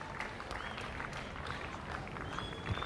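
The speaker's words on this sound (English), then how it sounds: "because he's getting a round of applause." A cricket crowd at the 1986 Adelaide Test between India and Australia applauds Sunil Gavaskar reaching 9,000 Test runs, heard as a distant, steady wash of clapping beneath a commentator's voice.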